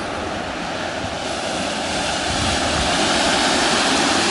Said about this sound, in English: Massive dam with a cool waterfall.